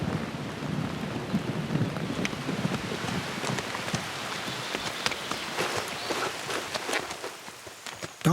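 Steady rain falls with rumbling thunder beneath it, a dense continuous patter with scattered sharper drops, fading somewhat near the end before a sudden loud burst.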